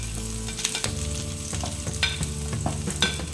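Garlic and ginger sizzle loudly in a hot pan while being stirred for ginataang tangkay ng gabi, a dense continuous fry broken by sharp utensil scrapes and clinks close by.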